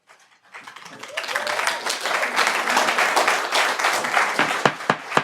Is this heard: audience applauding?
yes